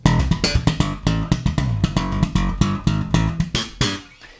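Second part of a slap bass riff: rapid, punchy slapped and popped notes in a driving repeated rhythm, played loud and up close with no voices.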